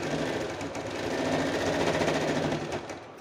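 A sewing machine stitches piping onto a blouse, running in one loud, continuous mechanical whir with a rapid even needle rhythm throughout, close by and with no talking.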